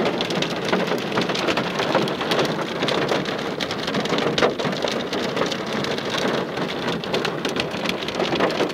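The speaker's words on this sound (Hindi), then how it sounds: "बरसात प्लस ये बर्फ के टुकड़े" Heavy rain and hailstones beat down without a break, a loud, dense, even hiss of countless impacts that holds steady throughout with no talking.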